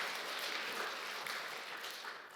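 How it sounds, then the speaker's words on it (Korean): A church congregation at a Sunday worship service claps in encouragement, a steady wash of many hands from a sizable crowd that fades slightly toward the end. "한번 격려의 박수."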